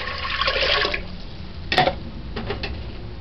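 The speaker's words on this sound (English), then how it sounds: "Add 6 cups of water" Water poured into a stewing pot for river shrimp janga soup, a close gushing splash at first, then a sharp clank and a few short trickling pours.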